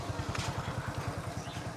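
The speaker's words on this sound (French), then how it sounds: "Scooter, il n'y a que ça ici." A small scooter engine putters on a Thai island, a quick regular low pulsing like a steady idle or slow cruise, fairly faint, with a brief rustle partway through.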